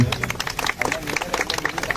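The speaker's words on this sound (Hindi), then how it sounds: "तालियां।" Audience applause at a Bhojpuri film event for the movie Mohra, dense clapping with cheering mixed in and voices underneath.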